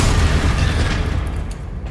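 A Confringo spell explodes in a Harry Potter video game with a heavy, booming blast that decays into a rumbling tail over under two seconds.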